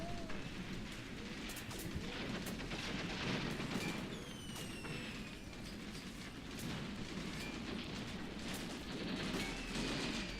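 Battle sounds from the war game Graviteam Tactics, set in a South African campaign: a dense, continuous run of gunfire and explosive thumps, with several whistling, swooping tones partway through and faint voices underneath.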